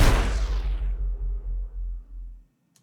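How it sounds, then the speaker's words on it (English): Video game engine boost shutting off gives a bright burst that quickly dulls into a throbbing low rumble. The rumble pulses unevenly and fades out over about two and a half seconds, with no voices. "And when the boost gets deactivated,"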